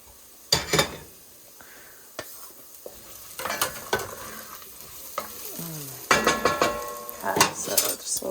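Mushrooms for cream of mushroom soup being stirred and scraped in a pan with a spoon, giving bursts of clinking and scraping over a soft sizzle, with a few louder clatters near the end.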